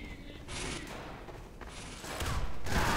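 Gunfire in Team Fortress 2, bursts of faint-to-moderate shots and noisy blasts in a busy firefight, rising louder toward the end.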